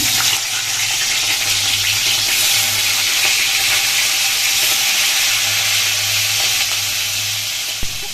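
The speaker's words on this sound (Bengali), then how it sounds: "কড়াইয়ে তেল দিয়ে দিয়েছি তাই দেখো তেল গরম হয়ে গেছে এবার মাছের মুড়োটা ভেজে নেব" Hilsa fish head frying in hot oil in a wok, a steady loud sizzle and hiss throughout with a low hum underneath and no voices.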